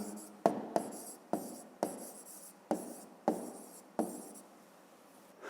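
A pen writes in a notebook in a quiet room: seven or eight quick, close strokes scratch in an uneven rhythm, each one a short rasp that fades.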